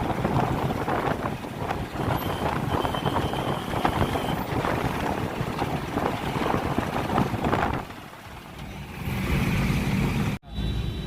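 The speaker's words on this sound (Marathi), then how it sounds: "ट्रॅफिक बघा इथं किती आहे" Dense road traffic in a busy city area near Koregaon Park, Pune, a continuous broadband roar of passing vehicles with wind buffeting the microphone, dipping briefly near the end before surging again.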